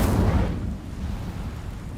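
A fire spell cast in the Hogwarts Legacy video game sets off a loud, low whooshing burst at the start. The burst fades into a rumbling tail over about two seconds.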